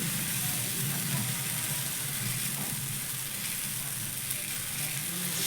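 Vegetable-laden atta batter sizzles on a hot pan while being spread into a round with the back of a ladle, giving a constant close hiss with faint scraping and no pauses.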